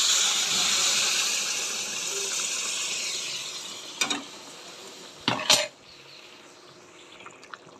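Hot water is poured into a pan of paneer curry with fried soybean chunks and potatoes: a steady rushing pour for about four seconds, followed by a few sharp metallic clanks and quieter stirring, with no talking.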